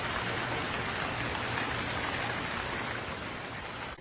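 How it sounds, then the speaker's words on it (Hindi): Heavy rain pours down in a dense, unbroken roar of drops, steady and loud throughout. "बाहर बहुत तेज बारिश हो रही होती है"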